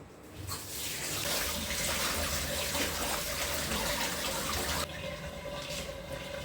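Vegetables being washed under a running kitchen tap, a loud steady rush of water that shifts in tone partway through as the flow changes.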